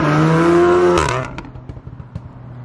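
A VW Golf R Mk7 with an APR downpipe passes close by, its loud exhaust roar fading quickly and leaving a few crackling pops.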